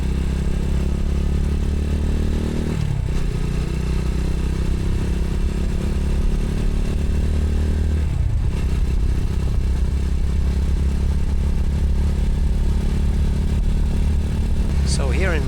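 X-PRO Roadster 250 (Boom BD250) motorcycle riding on Minnesota roads, a loud steady engine drone with wind, dipping briefly twice as the rider shifts gears.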